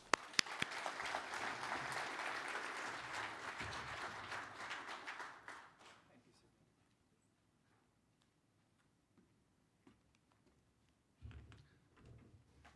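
A conference audience applauds to welcome a keynote speaker, dense steady clapping that fades out after about six seconds, leaving quiet room noise and a few faint knocks and shuffles.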